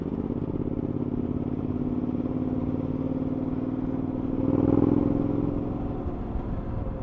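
A Suzuki V-Strom 1000 motorcycle rides through back streets over patches of raised tarmac, its engine a steady mid-pitched drone with road rumble that swells briefly louder midway, with no voices.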